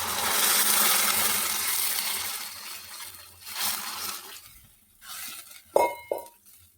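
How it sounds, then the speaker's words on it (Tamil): Hot water poured into semolina sautéed with turmeric in a pan while making rava kichadi, a broad hissing sizzle that fades over several seconds, followed by a few sharp metallic clinks of a utensil against the pan. "இப்போ நம்ம சுடு தண்ணி ஊற்றிக்கலாம்."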